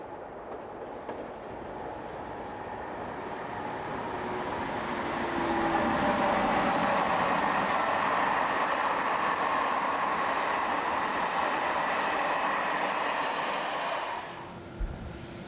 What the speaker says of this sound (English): The impressive viaduct at Souillac plays host to 26019 as it slows for the station stop on a service from Paris to Toulouse